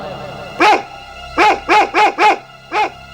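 A dog barks six times, one bark, a pause, then a quick run of four and a final bark, loud and fairly close.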